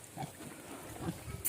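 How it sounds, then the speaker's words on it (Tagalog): A pregnant pig on a farm gives a couple of short, low grunts close by, with quiet background noise between them. "Dirang baboy ni Jan buntis na ni siya guys"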